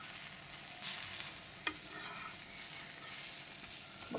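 Egg omelette frying in a pan over a medium flame, giving a soft, steady sizzle throughout with one brief sharp tap near the middle and no talking.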